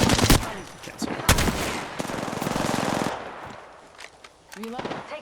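Rapid automatic gunfire from Apex Legends, loud bursts of rattling shots followed by a sustained stream of fire, then scattered single pops and game effect tones, with a voice briefly under it.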